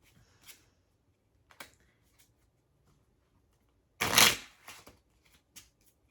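Soft riffling of a deck of playing cards, a few faint flicks then one louder, longer shuffle burst near the end, close and otherwise quiet.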